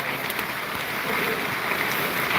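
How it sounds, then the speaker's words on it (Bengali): Heavy rain pours at night onto a rooftop where a freshly cast concrete roof is being waterproofed, a dense, constant hiss at moderate loudness, swelling slightly toward the end. "খুব জোর বৃষ্টি আসছে আওয়াজ হচ্ছে খুব জোর"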